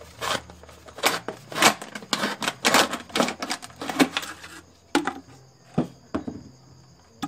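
Homemade cutter slicing the bottom off a PET plastic bottle: a dense run of sharp, rapid scraping clicks and crackles, close and fairly loud, easing into sparser ticks near the end with a faint steady tone.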